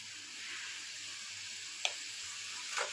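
Whole spices sizzle steadily in fresh soybean oil while beef is being cooked, a constant close hiss with one sharp tap partway through and a brief clatter near the end, no talk.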